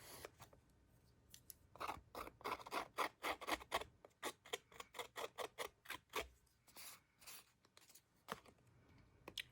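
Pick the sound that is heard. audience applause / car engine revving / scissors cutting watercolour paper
scissors cutting watercolour paper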